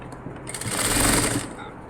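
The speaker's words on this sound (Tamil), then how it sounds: "லைனிங் மட்டும் கொடுத்து ஒரு தையல் நெட்டாக போட்டு எடுத்துகிட்டு" Sewing machine stitching a lining onto a silk cotton blouse in a short run, a rapid whirring chatter that swells and then stops, close and clear, with no talking over it.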